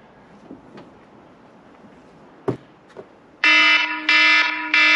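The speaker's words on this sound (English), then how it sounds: "That's the alarm going off." A van's ARMD alarm suddenly starts blaring after the side door is opened, a loud steady electronic tone pulsing in three bursts after a few faint knocks and clicks.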